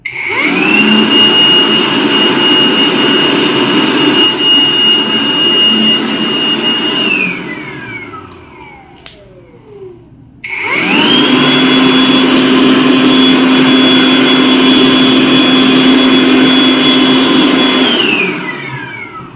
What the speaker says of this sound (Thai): เห็นได้ว่ามันค่อนข้างแรงแล้วก็ เสียงดัง เท่ากับโบเวอร์ที่เป็นตัว ไฟฟ้าปกติเลยนะครับ